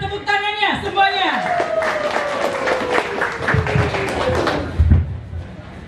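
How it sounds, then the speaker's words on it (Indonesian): Applause breaks out at a community gathering for airing residents' concerns, scattered claps beneath a loud voice speaking over a microphone, with a few thumps toward the end. "Mohon berikan tepuk tangannya semuanya"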